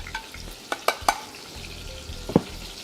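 Minced garlic sizzling in about a tablespoon of butter in a lightly heated pan: a close, steady fry broken by a few sharp clicks and spatula taps.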